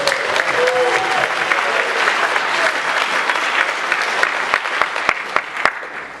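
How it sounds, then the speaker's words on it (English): An audience applauds school teachers at the New York Maker Faire, a dense, loud clapping that holds steady for several seconds with a few sharp claps standing out toward the end. "that's a round of applause for any school teacher."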